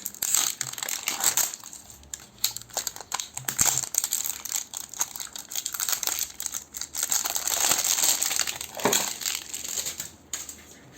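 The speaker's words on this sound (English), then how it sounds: "So let me just crack this packaging." Cardboard packaging for shaving products being cracked and torn open, a string of close crinkling, crunching and snapping bursts with short pauses, no voice.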